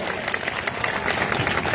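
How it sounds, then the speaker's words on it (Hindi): A crowd at a rural farmers' gathering gives Gurnam Singh Chaduni a short, loud burst of applause, dense clapping that lasts under two seconds. "एक बार जोरदार तालियों से उनका स्वागत किया जाए।"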